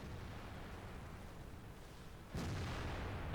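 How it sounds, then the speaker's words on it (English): A tank cannon fires a single heavy shot from behind a rival turret in World of Tanks, a sudden loud boom that jumps out of a steady low rumble of engine and battlefield noise and then rings on. "I move out, take a shot at the back of his turret"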